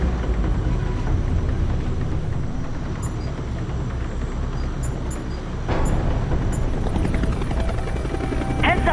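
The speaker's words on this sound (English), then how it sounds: "Heads up, we got enemy helos closing in" Enemy helicopters close in within Tom Clancy's H.A.W.X 2, a loud continuous rotor thump and engine drone filling the scene, with sharp electronic warning beeps and a surge of game effects partway through.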